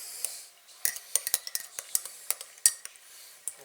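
A spoon stirs a cup of tea, clinking sharply against the inside of the cup in a quick, irregular run of close, bright taps.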